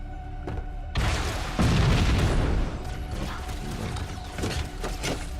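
Rocket explosions in Halo: Combat Evolved, a sudden loud boom followed by a sustained roaring, crackling blast with scattered bursts, close and dominant.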